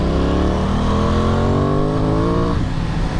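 Aprilia Tuono 660 naked motorcycle revving while riding, the engine note climbing smoothly through a rising whine as it accelerates, then easing off near the end, loud and close with wind rush underneath.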